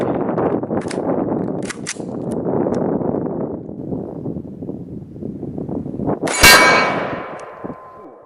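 A 5.56 green tip rifle round slams into a steel CrossFit plate with a single loud, sharp clang that rings out and decays over a couple of seconds, following a stretch of outdoor wind noise and faint earlier metallic ticks.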